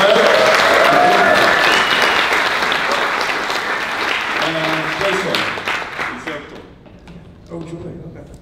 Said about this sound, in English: So give them a big applause.